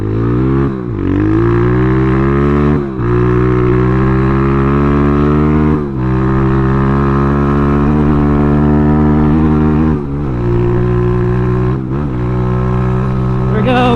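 A Kayo K2 230 dirt bike engine revs hard through the gears on a top speed run, a loud, close buzzing whine that climbs in pitch and briefly dips at each shift.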